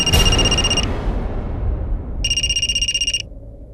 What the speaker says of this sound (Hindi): बेटा फोन उठा ले